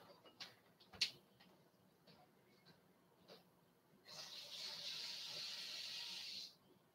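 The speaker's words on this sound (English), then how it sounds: "Go rinse my hands off because of the little spillage." Water from a running tap pours steadily for a couple of seconds as hands are rinsed after a whisky spill, a soft close hiss following a few small clicks and knocks.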